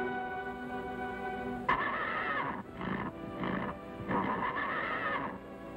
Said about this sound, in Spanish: Vengo por el caballo, Sunset. Me lo voy a llevar ahora, socio.